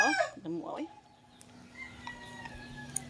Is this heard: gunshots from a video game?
no